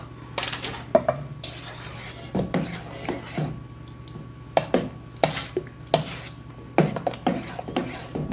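Thick pumpkin pie filling gets stirred in a big bowl, a utensil knocking and scraping the sides in irregular clattering strokes with soft wet swishes between them, close and fairly clear.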